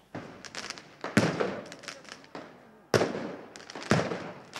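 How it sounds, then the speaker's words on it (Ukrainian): Protesters fire fireworks at police during street clashes at Instytutska and Khreshchatyk streets in central Kyiv, producing a series of sharp nearby bangs and crackling bursts in several clusters. "Мітингувальники запускають у міліціянтів салюти та кидають каміння."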